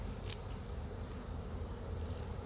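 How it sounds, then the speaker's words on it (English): A steady, low droning hum of many bees fanning their wings outside a hive fills the clip, with a couple of brief higher crackles; no talking. "I saw a bunch of bees just standing there beating their wings"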